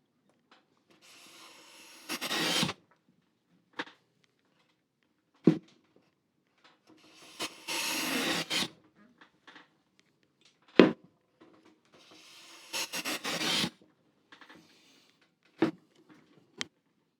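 A super flat hand plane takes edge shavings off timber clamped in a workbench: three quiet, hissing strokes in a row, each separated by sharp wooden knocks and near-silence.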